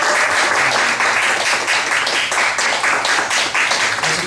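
Steady applause from a church congregation during a Sunday worship service, dense overlapping clapping sustained loudly and evenly throughout with no voices.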